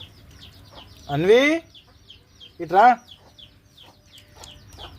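Chickens cluck in two loud, close bursts against a quiet yard with faint bird chirps, while a person speaks briefly nearby.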